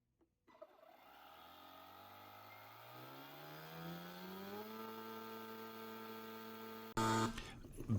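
ETENWOLF Vortex S7 portable air compressor starting up and running, a steady motor whine rising in pitch over several seconds and then holding, ending in an abrupt loud rattle.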